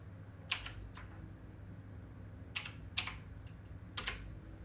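A computer keyboard being typed on, a few quick isolated key taps in small clusters against a quiet room hum, close and crisp with no talking.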